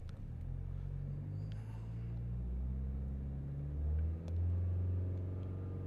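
Engine of a Citroen C4 Picasso with a faulty NOx sensor held at a steady 3,000 RPM, a continuous low droning hum with a slight swell in pitch, close and without talk.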